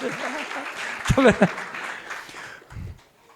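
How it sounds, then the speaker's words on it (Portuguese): Moderate audience applause at a business gathering in Mossoró, clapping that swells and then fades out, with a voice speaking over it partway through before it dies away. "Salve de palmas para ele, gente."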